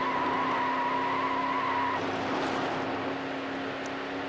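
A Lamborghini Diablo races in Need For Speed Hot Pursuit 2, its engine a steady, loud drone throughout, with a sustained tone in the first two seconds and a rougher, noisier stretch after, with no talking.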